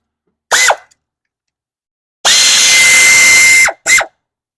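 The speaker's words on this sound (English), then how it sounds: "I'm going to use the air ratchet" An air ratchet spins off 10mm nuts on a 2004 Toyota Sienna engine in loud, whining bursts: a short blip, a long sustained run of about a second and a half, then two quick final blips.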